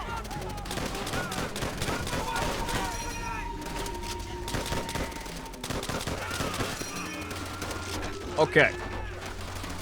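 Machine gun fire in Call of Duty: World at War rattles in repeated bursts amid other battlefield gunfire, with voices talking over the shooting and a louder sharp burst near the end.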